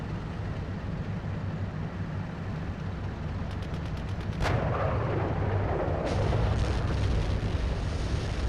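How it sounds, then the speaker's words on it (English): Gunfire in a mechanized infantry military video game, with a sudden loud burst midway followed by sustained booming and crackling shots over a constant low engine-like rumble. "We're taking fire here."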